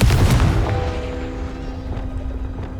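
A Confringo blasting spell in the Hogwarts Legacy video game goes off as a heavy, booming blast up front, then decays into a ringing tail with faint distant pops.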